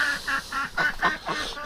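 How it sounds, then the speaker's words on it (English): Two upset ducks quack in quick, rhythmic bursts, about seven harsh honking calls in under two seconds, fairly close and alone. "we got 2 upset ducks here"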